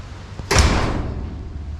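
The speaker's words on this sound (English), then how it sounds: "the door's going to slam shut" A door slams shut with a single loud, close, heavy bang, followed by a short reverberant decay in the room.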